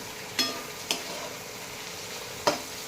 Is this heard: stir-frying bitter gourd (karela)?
yes